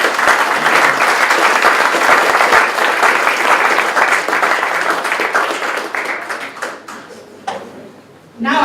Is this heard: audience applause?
yes